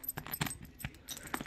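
Metal zipper pulls on a pink bag jangle in a few quick, light clinking bursts close by, with no speech.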